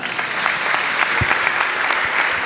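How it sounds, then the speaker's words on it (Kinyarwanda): A crowd applauds at the Holy Preachers choir anniversary celebration at the APADE school. The clapping is loud, dense and continuous throughout, with one low thump partway through. "Amashyi menshi cyane."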